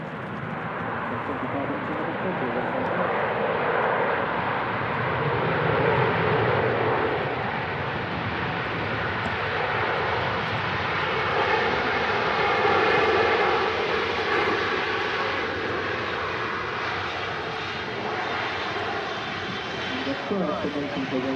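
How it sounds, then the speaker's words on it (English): A Boeing 777-300 with huge GE90 engines touching down on runway 23 right at Manchester Airport, a steady loud jet roar and wash of spray lasting throughout, with a voice talking over it. "Them huge GE90s kicking up a massive amount of liquid there."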